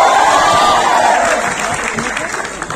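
A university audience at Jaipur National University applauding and cheering, a dense, loud crowd roar with clapping that fades slightly toward the end.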